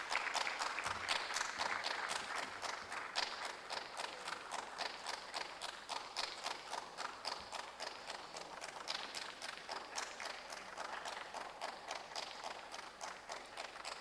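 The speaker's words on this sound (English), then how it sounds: "with a round of applause, kindly welcome the Valley View University contestants on stage" Applause welcoming university contestants onto a stage at a televised business quiz semi-final, faint and distant, with a rhythmic, unified clapping pulse that settles into a regular beat as the crowd claps in time.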